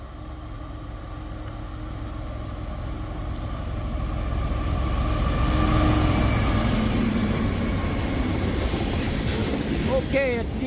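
A freight train of oil tanker cars rolls past, a loud rising rumble and steady clatter of wheels on rail building to a close peak, with faint squeals near the end.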